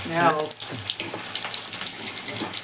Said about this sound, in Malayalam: അപ്പോൾ സമൂസ ഇങ്ങനെ പൊരിച്ചെടുക്കുകയാണ് എണ്ണ ചൂടായതോടെ പെട്ടെന്ന് ആയി കിട്ടും